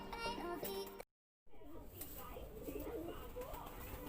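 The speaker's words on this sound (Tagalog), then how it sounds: "So ito nga yung unang ibon mga kalapatids." Taiwan pigeons in a loft coo softly and faintly, with a brief silent gap, while a person talks nearby.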